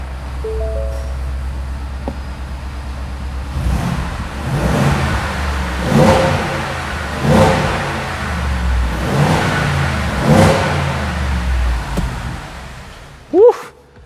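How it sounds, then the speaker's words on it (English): A Ford F250 pickup's 7.3L Godzilla V8 is revved repeatedly under an open hood, close up, with several rising and falling bursts over a steady idle, and a voice speaks briefly near the end. "let you guys hear what this fairly large engine sounds like"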